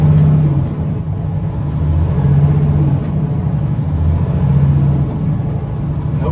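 A Peterbilt 589 dump truck with an automated Paccar TX-18 transmission pulls away from a stop in a low gear, its steady, loud diesel rumble rising slightly as it drives, heard alone from inside the cab.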